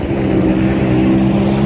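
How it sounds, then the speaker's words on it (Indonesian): Car engine droning close by at a busy outdoor winter gathering area in an Arab country, a loud steady low rumble with no voices. "Ini ada mobil lagi."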